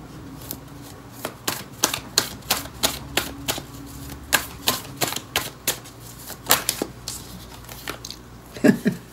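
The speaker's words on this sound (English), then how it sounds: "you saw me shuffle" Tarot cards being shuffled and handled at close range, a rapid irregular series of crisp clicking and snapping taps with little talk.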